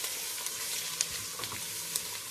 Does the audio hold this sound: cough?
no